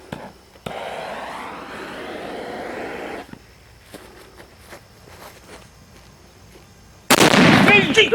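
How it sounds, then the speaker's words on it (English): A loud cannon blast bursts suddenly after several seconds of quieter rustling and scattered small sounds, with a voice briefly audible earlier, in Fort Atkinson, Wisconsin. "Okay, we're going to light the cannon"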